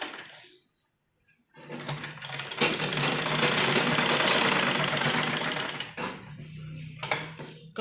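A domestic sewing machine runs a loose basting stitch through printed kurti fabric in one continuous whirring burst of several seconds, bracketed by quiet handling noises and short pauses.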